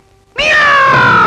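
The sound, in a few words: black cat meowing in horror story scene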